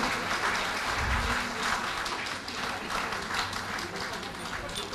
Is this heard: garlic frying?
no